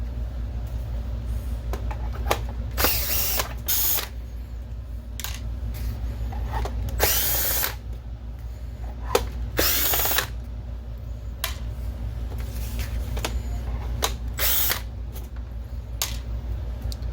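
A power drill removes screws from a BenQ W1070 DLP projector in short, repeated whirring bursts, some longer than others, over a steady low hum.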